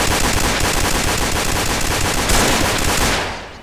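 Sustained machine gun covering fire in a WW2-themed shooter game, a dense continuous rattle of rapid automatic bursts at full loudness for several seconds before tapering off.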